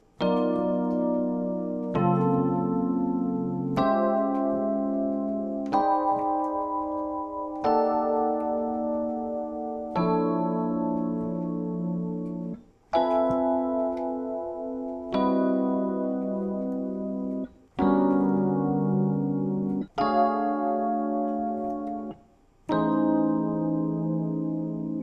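A sequence of about a dozen sustained chords, the same shape planed clockwise around the circle of fifths, struck one after another with short decays, no talking.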